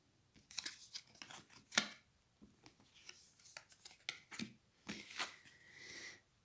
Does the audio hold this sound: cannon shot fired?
no